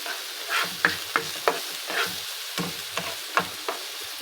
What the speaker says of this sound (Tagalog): Gisa muna natin ang ating mixed vegetable